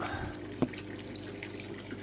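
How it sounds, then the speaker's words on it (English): A pump drives water out of an aquarium trickle filter, making a quiet, steady trickle with one brief splash. "The water shoots out"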